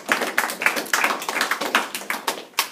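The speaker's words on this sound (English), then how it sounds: "turn around, clap for your people that were here" An audience in a class applauds one another, a scattering of quick, uneven claps that rise and fall without a steady rhythm, fairly near and moderate in volume.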